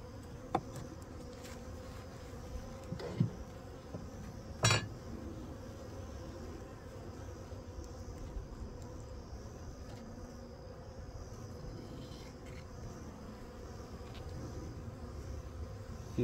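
Honey bees buzzing at an open hive during package and queen-marking work, a low continuous drone filling the background with a few sharp clinks and taps scattered through, steady and moderately quiet, with no talking.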